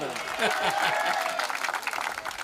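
Audience applause and crowd noise at a Hindi comic poetry gathering, a brief burst of clapping mixed with voices and a tonal sound over it.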